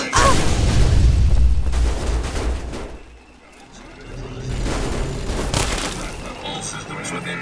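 Heavy weapon fire in the Fallout 3 video game produces loud booming blasts with crackling tails, a dense burst at first, a brief lull, then another rumbling volley.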